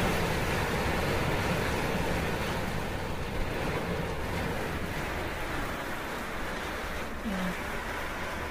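Typhoon Lion Rock at signal number 8 drives strong, continuous wind gusts with roaring surf, a steady broadband rush that stays loud throughout with no clear speech.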